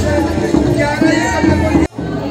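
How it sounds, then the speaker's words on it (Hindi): Guests crowd together in a packed wedding procession for the Gauri-Gaura marriage ritual, a loud, dense hubbub of many voices close by. The noise stays steady and briefly drops out near the end before the babble returns. "अति भीड़ है बरतिया मन के"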